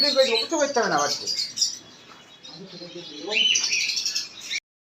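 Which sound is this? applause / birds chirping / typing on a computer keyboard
birds chirping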